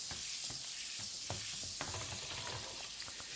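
Butter sizzling in a pan as fry bread dough cooks for a Yellowstone breakfast, a steady bright hiss with small pops and crackles throughout, close and alone.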